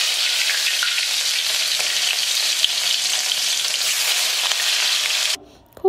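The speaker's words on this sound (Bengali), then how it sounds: "এবার একে একে মাছের টুকরো দিয়ে ভেজে নেব।" Rohu fish pieces fry in mustard oil in a wok, giving a steady, loud, close sizzle that holds evenly before cutting off abruptly near the end.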